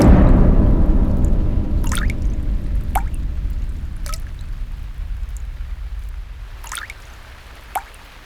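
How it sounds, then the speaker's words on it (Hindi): Water dripping from a tap left open: a handful of sharp, isolated drops fall at irregular intervals, roughly five in eight seconds, over a steady low rumble in a quiet room. "पानी कहाँ टपक रहा है? लगता है किसी ने नल खुला छोड़ दिया है।"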